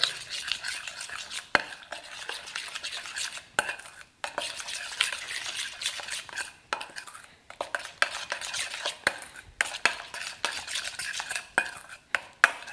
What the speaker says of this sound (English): and the garlic, and the ginger. And then you just get this all stirred up.